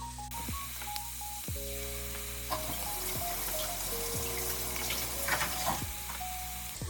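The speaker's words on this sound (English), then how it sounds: "So I'll go ahead and cook the onion and the garlic just a tad more" Onion and garlic fry in a pot for stuffed peppers, a steady soft sizzle with occasional stirring scrapes, close but quiet, no voices.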